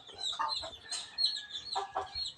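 Hens kept on a house rooftop cluck in short, repeated bursts close by, a few overlapping calls against otherwise quiet surroundings.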